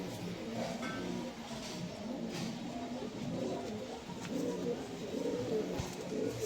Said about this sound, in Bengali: খুব ছটফট করছে পায়রা